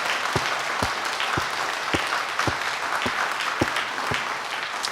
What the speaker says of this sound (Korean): 영광의 박수 하나님께